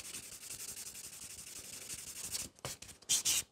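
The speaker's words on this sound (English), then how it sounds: "Now take a buffer and just buff and smooth out this nail" A buffer rubs back and forth across a sculpted coffin-shape fiber gel nail in quick, close, scratchy strokes, steady for most of the moment before a few sharper, louder passes near the end.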